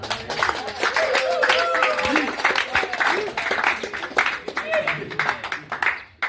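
A church congregation at a Congolese thanksgiving mass claps and applauds in a lively, uneven patter, with voices and crowd murmur mixed through the clapping.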